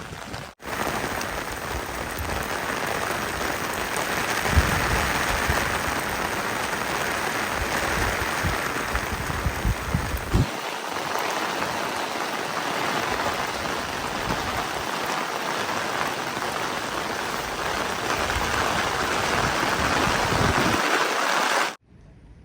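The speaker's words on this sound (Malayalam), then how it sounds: "അങ്ങനെ ഇവിടുന്ന് മഴയും കൂടെ കിട്ടിയിരിക്കുകയാണ്." Steady rain pours down for about twenty seconds at Chandera railway station in Kerala, an even close hiss of drops on surfaces, then cuts off abruptly.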